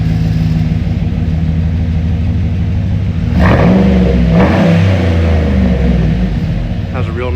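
A 2015 2500HD truck with intact converters and a new catback exhaust revs up from a loud, deep idle to a rumbling swell midway before settling back, heard up close.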